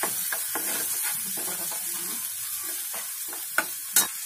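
Ginger garlic paste stirred and fried in a pan for chicken cutlets, a steady sizzle with scraping spoon strokes, two sharper knocks near the end, close and alone.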